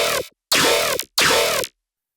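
Three stacked wavetable dubstep bass synths with maxed unison, played together as three loud, wide, buzzing bursts separated by brief silences.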